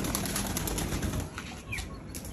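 A racing pigeon beats its wings in a close, steady burst of flapping that fades a little toward the end, with no one talking.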